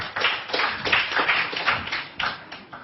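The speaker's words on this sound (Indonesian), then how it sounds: "Tepuk tangan untuk mereka berempat." An audience at a spectacular religious debate event applauds, a dense, steady patter of many hands clapping with no speech over it.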